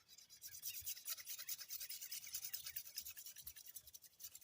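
A knife blade's bevel being polished against an abrasive, giving close, faint, rhythmic rubbing strokes in a fast back-and-forth scratch, with no voice over it.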